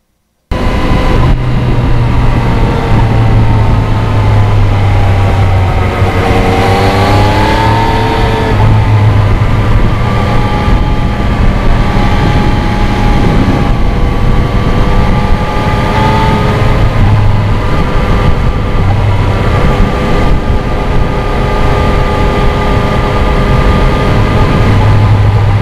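Yamaha MT-09 cross-plane triple motorcycle, a 2020 model, pulling hard with a loud, continuous engine drone that rises in pitch as it accelerates, heard close up with steady wind noise and no talking.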